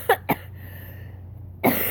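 A person with a head cold coughs, two quick close coughs followed by a third after a short pause, over a faint low hum.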